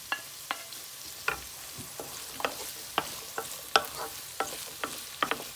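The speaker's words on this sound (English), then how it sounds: "Next I'm going to add the peppers. Fry 2 minutes. Then put the spring onion." Peppers and spring onion frying in a pan, with soft continuous sizzle broken by frequent sharp clicks and scrapes of a utensil stirring, close and fairly quiet, no voices.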